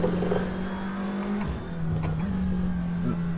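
A Seat Leon TCR engine in Assetto Corsa VR drones at a steady pitch, with brief dips and rises as the throttle is feathered, close and fairly loud with a few faint ticks and no talk.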